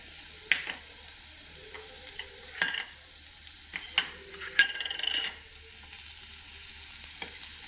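Garlic paste is mixed into carrots in a pan on a switched-off flame, with intermittent close stirring scrapes and clinks over a faint sizzle, separated by quiet pauses.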